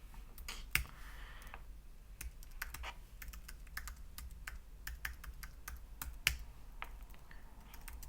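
Quiet clicks of typing on a computer keyboard during desktop system setup come in uneven bursts of keystrokes with a few sharper taps, close by and faint, with no speech.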